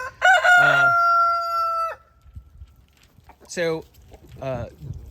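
A rooster crows loudly once, a long drawn-out call, followed by a couple of shorter clucking or squawking calls nearby.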